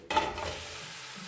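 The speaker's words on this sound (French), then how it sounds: "Je vais les faire suer dans mon huile d'olive." Chopped tomatoes, onions and shallots sweat in olive oil in a pan, a soft sizzle and stir starting abruptly and holding steady and close for the brief moment, with no talk.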